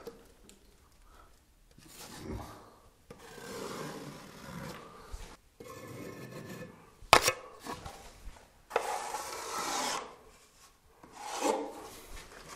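Joint fleece tape on a plasterboard ceiling is pressed down and smoothed with a spatula, giving repeated close scraping and rasping strokes with short pauses and one sharp tap in between.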